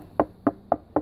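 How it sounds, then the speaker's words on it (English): Four sharp, evenly spaced knocks on a wooden beehive box, close and loud, with no voice over them. "if we knock on the,"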